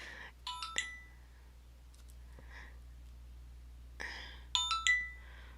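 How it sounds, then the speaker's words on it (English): A mobile phone rings twice with short, bright electronic chime patterns, faint and fairly close, separated by a few seconds of quiet with soft clicks. "sorry about my phone going off"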